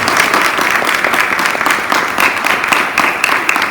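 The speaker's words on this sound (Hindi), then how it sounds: "बढ़ा दो हौसला तालियों से इस मंच पर" Steady audience applause fills a school Republic Day program stage, dense clapping sustained and fairly loud throughout with no voices over it.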